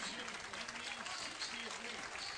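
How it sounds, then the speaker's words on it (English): Applause from a stadium crowd at a Tampa Bay versus Rochester Rhinos soccer match after a goal, a steady broad wash of clapping that stays at even level throughout, with a commentator talking over it. "Kissy gets a nice round of applause as he scored his 6th goal of the evening this year."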